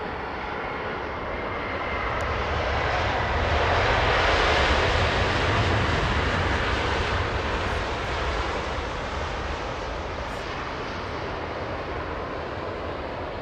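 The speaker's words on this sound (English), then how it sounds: "747 lifting off, by the way" A Boeing 747 takes off at Los Angeles International Airport, its engines a loud broadband roar that swells toward the middle and holds steady, heard from a distance without talk.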